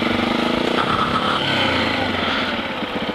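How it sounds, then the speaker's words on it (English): A motorcycle engine drones loudly and continuously, its pulsing note wavering and sounding rough and strained throughout. "my engine sounds very unhappy with something"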